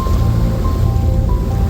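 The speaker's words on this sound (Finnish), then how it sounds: "Ja tuolla on Tyyni valtameri." Pacific Ocean waves heard from a boat, a steady broadband wash of surf and water rushing with no talk, constant and fairly loud throughout.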